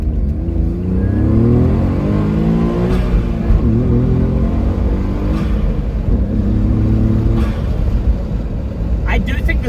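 Modified LibertyWalk Honda S660 kei sports car accelerating under heavy throttle, the engine revving up through rising pitch sweeps and shifting repeatedly, heard from inside the cabin with road noise underneath and a person talking over it.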